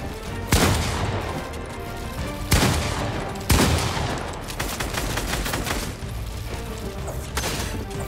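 Gunfire in the video game Fortnite during a one-on-one match, with sharp loud shots and bursts of rapid fire standing out over a continuous busy game soundscape.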